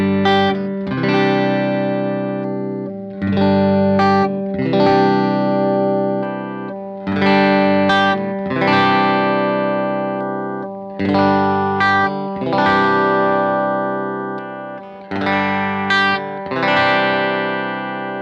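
Electric guitar runs through a Kemper amp profile while the player switches between pickups, sounding repeated bright, distorted chords that ring out and decay in short strummed bursts, loud and close.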